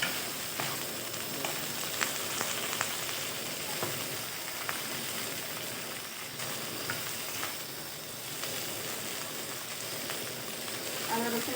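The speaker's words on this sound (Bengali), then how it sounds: "আদা রসুনটা ভালো করে ভেজে নিয়ে আমি এর মধ্যে চিকেন দিয়ে দেবো" Chicken fries in a small amount of oil with ginger and garlic, a dense, steady crackling sizzle close to the pan with occasional stirring scrapes, while a voice speaks over it now and then.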